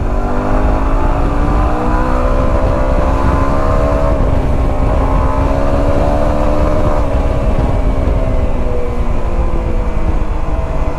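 Motorcycle engine held at high revs with the throttle open, a loud steady droning whine with slight pitch rises and dips, close and continuous without talk.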